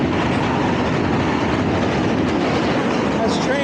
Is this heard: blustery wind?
no